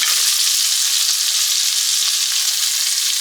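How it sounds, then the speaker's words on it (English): Halved tomatoes cook down in a pan with a steady, close hiss of frying that holds evenly throughout, with no voices. "we're gonna let those tomatoes cook for a little while"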